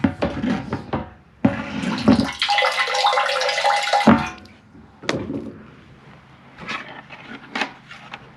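Water gushes loudly into a 120-gallon tank on a water wheel transplanter for about three seconds, then cuts off, leaving faint thumps and handling noises.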